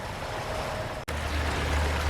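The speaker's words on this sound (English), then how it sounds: "Now we made our way here to the creek." Creek in Southwest Virginia flowing over rocks and boulders: a steady, close rushing wash, broken by a brief dropout near the middle.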